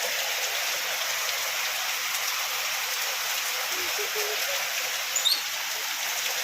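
Heavy rain pours steadily in a dense, even hiss that holds its loudness throughout, with a few brief drips or taps near the end.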